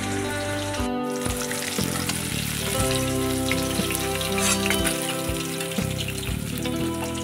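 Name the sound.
hilsa fish frying in oil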